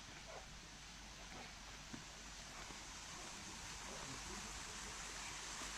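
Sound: waterfall flowing past Wat Pha Lat temple

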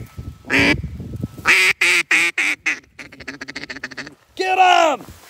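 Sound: ducks quacking near a duck blind

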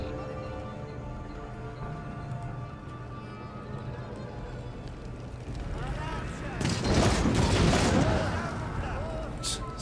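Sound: mortar fire in Empire: Total War video game siege

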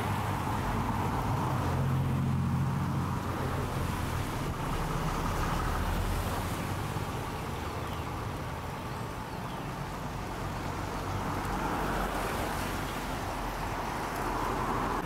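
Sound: bus departing bus garage

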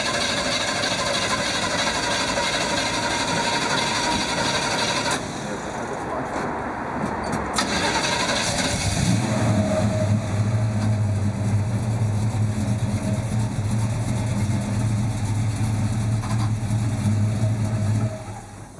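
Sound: old Chevy car engine starting and driving forward

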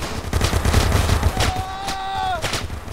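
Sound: gunfire in the video game GTA

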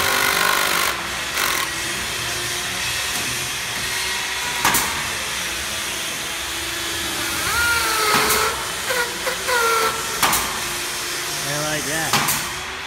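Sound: Mantis clip system installing ModernView decking

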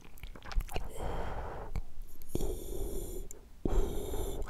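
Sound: voice imitating Darth Vader's breathing

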